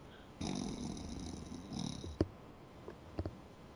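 A man snores faintly in a quiet room, a couple of soft drawn-out breaths followed by small snorts, heard alone.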